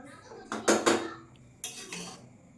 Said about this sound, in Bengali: এই যে কত সুন্দর মন দিয়ে বানাচ্ছে ফ্রাইড রাইসটা, নাড়িয়ে নাড়িয়ে সূক্ষ্মভাবে